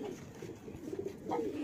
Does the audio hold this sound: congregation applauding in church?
no